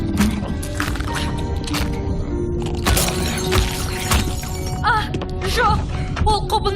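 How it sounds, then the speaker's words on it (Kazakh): A magic navigation compass is smashed in a cartoon sea tale, a loud shattering crash with cracking fragments and scattered tinkling debris under voices and music. "ол құбылнамамызды сындырып тастады"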